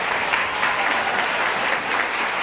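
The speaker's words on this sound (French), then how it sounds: "Applaudissements encore, merci Marc-Anthony." Audience applause at a French-speaking community show, dense and steady clapping from a crowd, loud and unbroken across the whole stretch with no talk over it.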